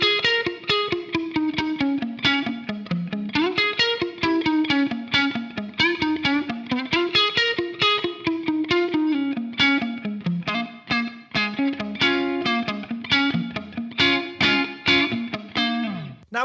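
Electric guitar through an Amped Block Letter effect on its Gritty Breakup tone, a mildly overdriven, crunchy amp sound with fast picked notes and chords played steadily and loud, with nothing else over it.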